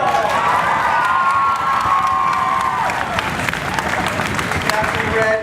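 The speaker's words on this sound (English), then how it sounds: "you burst into uproarious applause" Comedy Sportz improv show audience erupting in uproarious applause and cheering, loud dense clapping with whoops and shouts sustained throughout.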